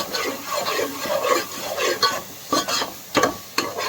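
A spoon scrapes and stirs a thick tomato and onion paste in a pan for fish curry, giving rhythmic rasping strokes over a soft sizzle, close up with sharper knocks near the end.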